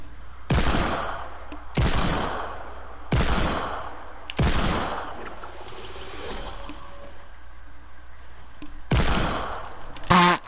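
Gunfire in the video game Fortnite shoots at a player's build: five loud, sharp bursts of shots spaced a second or two apart, each trailing into a brief rattling echo.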